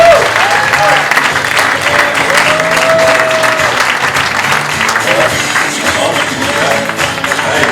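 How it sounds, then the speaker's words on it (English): A conference audience at a keto mastermind event in San Diego gives a loud, sustained round of applause to welcome a speaker, with cheers and whoops rising over the continuous clapping. "please give a huge round of applause"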